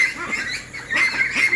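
Pekin ducks on a large duck farm of about 1200 birds, roughly a month old, give harsh overlapping quacks and honks in a continuous nearby flock chatter.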